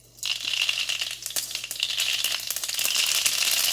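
A teaspoon of whole mustard seeds dropped into hot oil for an elephant ear leaf patra recipe, setting off a loud, steady sizzle dotted with rapid popping and crackling that grows a bit stronger.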